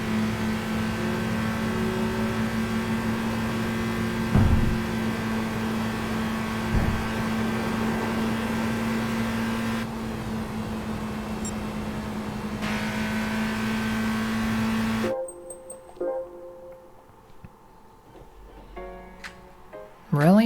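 A turbocharged car engine in the racing game Gran Turismo 5 drones steadily at high revs for about fifteen seconds, then cuts to quieter scattered sounds.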